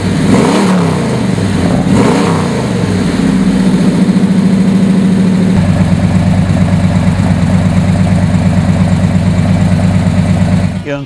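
A 1970 Chevelle SS 396 V8 in Tuxedo black rumbles loud and close, with a few blips of revving early on before settling into a steady, throbbing idle.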